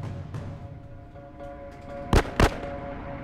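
Two sharp, loud gunshots ring out in quick succession during The Last of Us gameplay, standing clearly above a quiet ambient backdrop with a faint steady hum.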